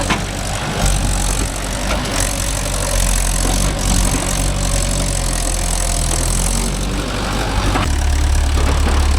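A JCB 3DX backhoe loader engine runs loud and close, a heavy continuous rumble that swells as it revs, with no clear talk over it.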